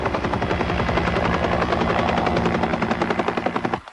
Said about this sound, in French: Hélico 3 à ponter.